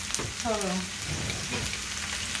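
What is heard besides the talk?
onion and celery sautéing in a pan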